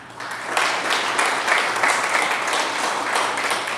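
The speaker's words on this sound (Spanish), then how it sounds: "Dale un aplauso a Dios por eso" A church congregation breaks into a full, steady round of applause during a sermon, dense clapping holding at an even level throughout.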